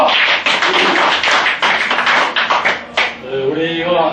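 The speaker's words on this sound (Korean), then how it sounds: "박수!" A small group claps together at a high-school alumni hiking club gathering held to elect its second president, dense, quick, close-up clapping that runs steadily for a few seconds while voices talk over the end.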